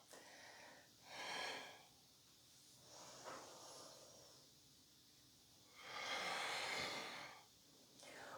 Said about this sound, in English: Nice strong inhale and exhale.